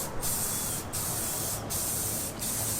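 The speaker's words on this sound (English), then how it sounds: "I went with a satin black spray paint." Satin black spray paint hissing from a can onto a wooden frame in four long bursts separated by short pauses, close and steady with no voices.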